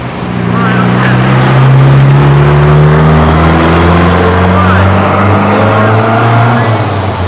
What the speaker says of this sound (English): that's a really loud muffler